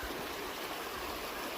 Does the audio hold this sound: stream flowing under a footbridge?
yes